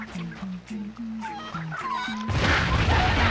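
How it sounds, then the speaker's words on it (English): Chickens clucking in the video game Crash Twinsanity, a run of short rhythmic clucks up close followed by a burst of louder noise near the end. "We're just gonna lead these chickens into this nitro here."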